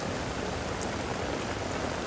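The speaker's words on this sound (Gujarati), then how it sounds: "વરસાદ શરૂ થઈ ગયો છે અને વરસાદ તો ધીમો નથી હો આમ જો" Heavy rain pours down outdoors in a strong storm, a dense, loud, unbroken roar of drops on surfaces with no gaps or voices.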